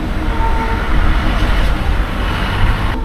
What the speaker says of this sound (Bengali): স্টিম ইঞ্জিনের ওয়ার্কশপ এইটা।